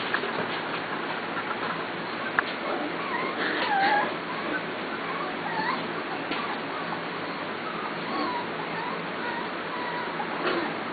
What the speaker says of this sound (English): Why are you howling, Bailey?